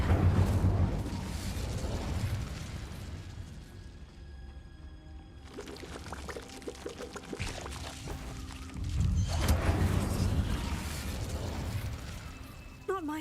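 Incendio fire spell cast in Hogwarts Legacy: whooshing bursts of flame rise in two loud surges, with a quieter, crackling stretch between them.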